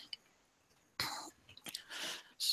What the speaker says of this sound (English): let me cough here for a second.